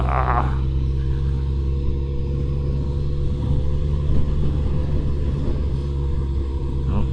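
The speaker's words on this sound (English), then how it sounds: "And we're going to short shift, second and third." A motorcycle engine short-shifts through second and third gear while riding gently, giving a steady low drone with engine harmonics and wind rumble, fairly loud and unbroken.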